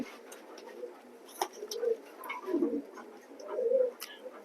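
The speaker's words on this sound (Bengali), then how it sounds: "দেখেন ডাক দেখেন পাগলা একটা নর ভাই অস্থির যে ডাকা ডাকে" Soft, low cooing comes from a male racing pigeon in a loft, several short throaty phrases spaced across a few seconds, close but quiet, with light background clatter.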